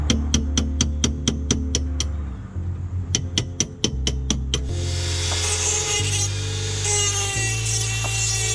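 Grinding down a welded floor pan patch panel on a BMW E28, a loud, steady abrasive drone that shifts pitch as the grinder moves across the metal, with rhythmic sharp ticks early on and no talk.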